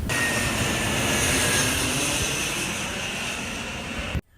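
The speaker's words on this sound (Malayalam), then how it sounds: "മൂന്നാമത്തെ പ്ലെയിൻ വരുന്നുണ്ട്." Airplane passing overhead near an airport, the third in a row, a steady broad engine roar that stays loud throughout before cutting off abruptly at the end.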